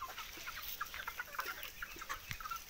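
Free-range desi chickens on a small netted farm cluck in quick, scattered bursts, several birds close by, fairly quiet and with no talk.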